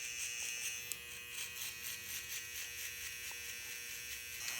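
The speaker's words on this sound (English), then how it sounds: "Get your trimmer" A hair trimmer buzzes steadily up close while fading a haircut, a constant high electric whine with a faint rhythmic flutter and a few small clicks.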